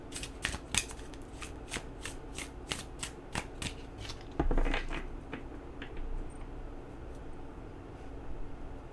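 Tarot cards are shuffled close up in quick crisp riffles, a rapid run of sharp flutters followed by a few softer slides and taps, with no talking.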